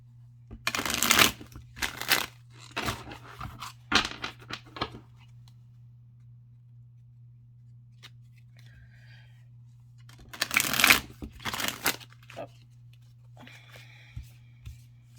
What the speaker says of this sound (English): I always make sure that I shuffle at least 6 times